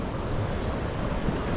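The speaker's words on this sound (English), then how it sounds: "watching the waves come in and splash" Ocean waves washing against rough shoreline rocks at Hobe Sound, Florida, a steady close roar of surf mixed with wind buffeting the microphone, no voices.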